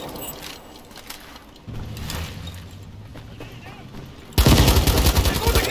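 MSBS-B rifle fire in a futuristic war video game, loud rapid automatic bursts erupting near the end after quieter battlefield ambience and faint game voices.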